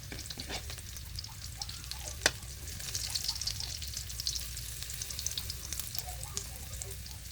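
Chicken feet recipe's aromatics sautéing in a pan over lowered heat, a steady close sizzle and frying crackle with one sharp clack midway, no talking.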